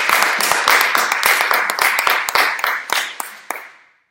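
A small group claps steadily for about four seconds, a brisk patter of nearby handclaps that thins out and stops.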